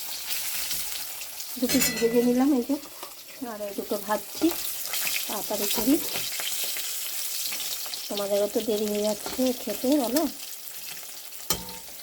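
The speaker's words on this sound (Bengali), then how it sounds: "আমার মাছ ভাজা শুরু হয়ে গেছে" Fish sizzles steadily in hot oil in a wok, a constant crackling hiss running beneath a voice that talks through most of the clip.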